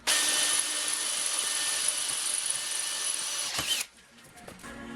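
A drill bores through two steel flat bar pieces clamped together, a loud, steady high-pitched whine for nearly four seconds that stops abruptly and leaves a quiet room.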